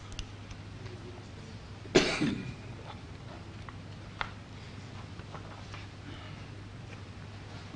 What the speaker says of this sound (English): Sorry, I'm having a bad cough.